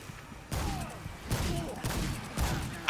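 Heavy booming blasts from a bomb going off through a gate in the game Dungeons & Dragons Online, four deep thuds spaced about a second apart, each with a rumbling low tail and a short trailing whine.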